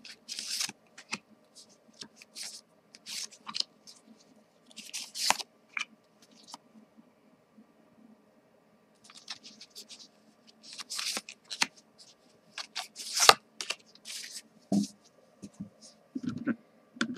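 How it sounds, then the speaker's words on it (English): Tarot cards are shuffled in several short riffling bursts separated by quiet pauses, close and crisp, with occasional soft taps and handling noises. "Okay, shuffle the cards."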